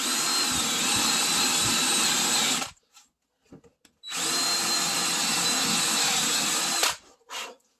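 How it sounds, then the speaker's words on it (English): A power drill boring a small hole for screws, two loud sustained whirring bursts of a few seconds each separated by a short pause with light handling clicks, close and with no talk. "now just have to drill"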